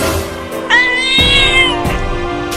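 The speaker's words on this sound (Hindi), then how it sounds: "मुझे दांत दिखा रही है बिल्ली" A cartoon cat gives a loud, drawn-out meow with rising and falling pitch, close and clear over background music, in a comedy skit about a cat, a monkey and ice cream.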